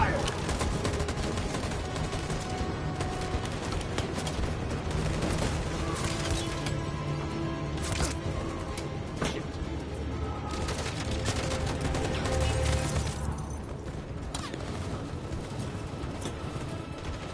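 Dense, continuous gunfire rattles through a battle in the video game Detroit: Become Human, sustained bursts layered over music and shouted voices with no break.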